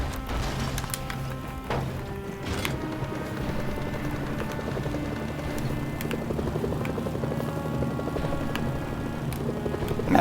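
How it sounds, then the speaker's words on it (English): Helicopters in the video game Mercenaries: Playground of Destruction make a loud, continuous rotor chop, with scattered sharp impacts and crashes mixed in throughout. "Incoming helicopters. They'll tear through the tanks."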